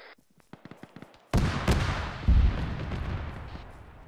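A Bradley fighting vehicle fires in ArmA 3, with a few light clicks and pops followed by two heavy, booming cannon blasts close together and a long, rumbling tail that echoes away.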